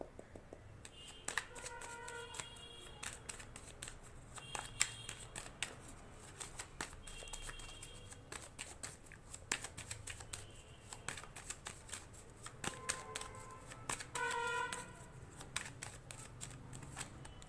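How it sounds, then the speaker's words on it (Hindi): Tarot cards being shuffled by hand, repeated soft riffling and slapping bursts at irregular intervals, quiet and close, with faint background sounds between. "जब तक मैं शफलिंग कर रही हूँ"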